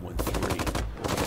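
A Bradley's coaxial M240 machine gun fires in a video game, a rapid, loud, steady burst of rounds that pauses briefly and then resumes.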